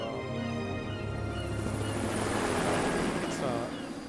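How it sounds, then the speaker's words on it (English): A steady helicopter rotor drone in Metal Gear Solid: Peace Walker with dense low rumble, loud and continuous, swelling slightly midway with game sound layers over it. "is that a 3D helicopter in a comic panel?"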